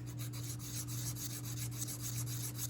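Fast, rhythmic rasping strokes of an Easy Lap diamond hone rubbing over small trigger parts from a Marlin 81-DL .22 rifle, a steady back-and-forth scrubbing close up over a low constant hum.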